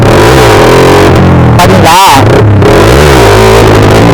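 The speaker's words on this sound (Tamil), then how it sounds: "இன்ஜினோட பவர் அப்படியே வந்து டவுன் ஆகி கம்மியாகிட்டு பாருங்க" A Yamaha R15 V4 sport motorcycle engine revs hard, its pitch sweeping up and down, then the power cuts out abruptly as traction control intervenes before it revs again. The sound is loud and close.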